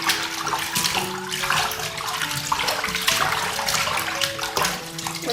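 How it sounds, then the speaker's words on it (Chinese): Chicken drumettes being washed in a sink, with steady running water and splashing handling sounds throughout, continuous and close, with a few clinks mixed in. "把鸡翅根给它洗干净"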